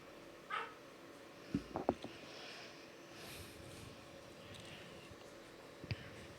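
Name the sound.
dogs barking, maybe fighting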